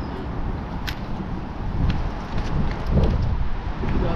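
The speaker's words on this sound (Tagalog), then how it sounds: "Grabe hangin to." Strong wind blusters across the microphone outdoors along an overgrown trail, a heavy, unsteady low roar that swells and eases in gusts.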